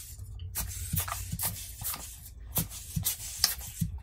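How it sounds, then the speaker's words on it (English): Short puffs from a hand air blower clean dust off a DSLR camera and its viewfinder area, about nine soft, breathy bursts in an uneven rhythm, close and fairly quiet. "I start with the blower."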